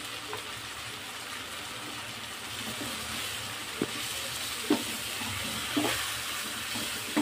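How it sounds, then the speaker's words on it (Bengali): Shrimp frying in a pan with turmeric and chili, a continuous even hiss of hot oil heard close up, broken by a few soft taps of a spatula, with no talking. "চিংড়ি মাছটা আমার ভাজা ভাজা হয়ে গেছে।"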